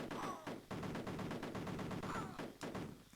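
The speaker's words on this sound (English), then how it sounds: "we're going to right click to shoot our weapon." Rapid bursts of gunfire from soldiers' weapons in the Amiga 500 war game Cannon Fodder, a quick repeating string of sharp electronic shots with brief pauses, fairly faint.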